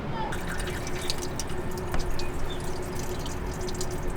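Water runs and drips steadily through a flushed coolant pipe on a DKW Auto Union 1000S, a continuous trickling and splashing texture with a brief louder gush midway.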